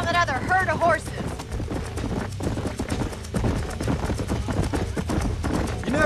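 Horses gallop in the Red Dead Redemption video game, a dense, fast clip-clop of hooves running continuously at close range under game music and a voice speaking.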